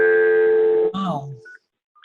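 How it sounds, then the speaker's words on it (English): Dial-up internet modem tones sound close and loud, a steady buzzing tone that breaks into warbling, sliding chirps before cutting out, with a brief voice-like sound afterward. "you still on dial-up internet?"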